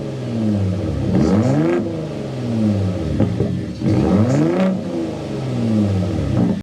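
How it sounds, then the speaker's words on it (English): A 2025 Ford F-150 Raptor's exhaust revs up and falls back in two strong swells, loud and close, with a rising whine and clattering edges between rumbling idles, no talking. "so you can hear that exhaust now."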